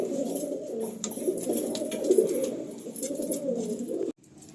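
Breeder pigeons in a loft coo softly and continuously, with overlapping low rolling calls close by, ending abruptly.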